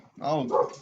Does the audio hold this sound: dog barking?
yes